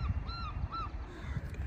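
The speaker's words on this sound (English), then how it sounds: "Looks like Skye wants to go back to the ducks" Ducks call nearby outdoors, two short honking, nasal calls over a steady low rumble of outdoor background noise.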